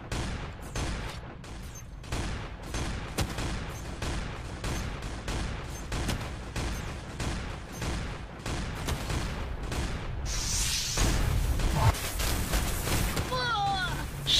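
A dense, continuous barrage of rapid gunshots and bursts in a shooting video game, layered and relentless, with a heavier swell of fire toward the end.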